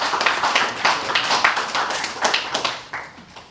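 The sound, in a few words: audience clapping after a speaker's talk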